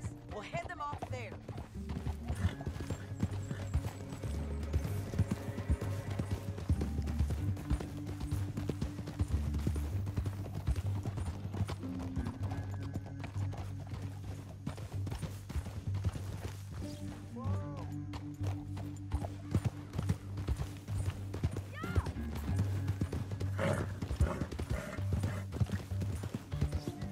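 Rapid hoofbeats clatter steadily beneath music and voices, a horse galloping at full pace throughout in Red Dead Redemption 2.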